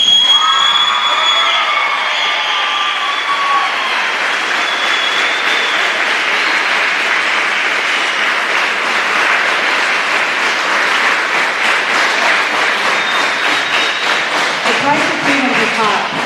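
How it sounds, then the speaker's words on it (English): Audience applause and cheering for a military veteran at a Veterans Day ceremony, sustained loud clapping from a large crowd that stands and keeps going for the whole stretch, with scattered shouts and a little talk mixed in. "Can you stand up and give him one big round of applause"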